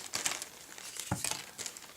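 Small plastic bag of telescope parts for a NexStar mount being handled, with close, soft crinkling and rustling in short irregular bursts, fairly quiet.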